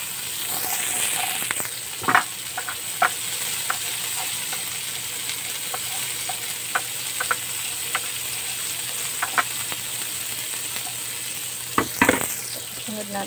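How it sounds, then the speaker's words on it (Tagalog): Onions fry in a pan with a steady close sizzle while a utensil stirs them, adding scattered scraping clicks and a couple of louder knocks against the pan. "lagay natin ang ating sibuyas. Haluin lamang natin."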